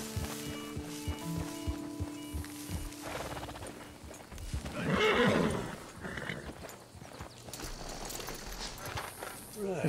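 A horse in the western game Red Dead Redemption 2 gives a loud, drawn-out whinny midway, with clip-clopping hooves around it and someone talking over the scene.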